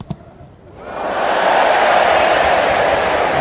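A rugby stadium crowd at a Leicester v London Irish semi-final roars in reaction to a crucial kick, a short thump then a swelling, sustained wall of cheering that fills the stadium and holds steady.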